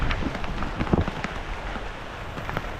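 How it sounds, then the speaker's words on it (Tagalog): Heavy monsoon rain falls in a rural garden, a steady wash of drops with some louder close spatters and faint distant rumbling, moderately loud with no voices. "Grabe po ang ulan ba."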